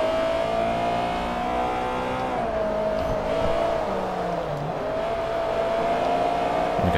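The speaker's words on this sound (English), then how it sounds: "Okay, I did a slight throttle blip." A car engine in Forza Motorsport 3, in a lightweight sports car race, drones steadily through a hairpin. Its pitch dips and then jumps briefly as the throttle is blipped on the downshift, with no talk over it.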